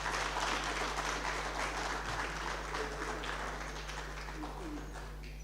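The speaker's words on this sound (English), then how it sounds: "Let's clap hands for him." An audience at a health sciences research conference applauds a presenter with a steady, moderately loud wash of clapping that slowly fades toward the end, over a constant low electrical hum.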